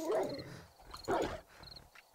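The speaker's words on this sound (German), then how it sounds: "Okay, das ist ein Hund." Dog in the zombie survival game 7 Days to Die growling and snarling, two harsh bursts close up with a brief gap between, followed by quieter rumbling.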